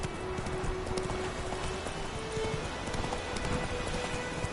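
Horse hooves clip-clopping steadily in a video game, a continuous mid-level patter of hoofbeats carrying on throughout over a faint hiss of ambient background.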